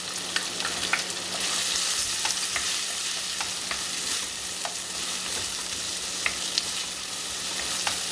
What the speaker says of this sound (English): So once the carrots and beans has been fried nicely